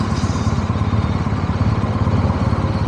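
Motorcycles from a convoy of about forty bikers on a breakfast ride rumble loudly and steadily up close, a continuous throbbing engine drone with faint clatter and no voices.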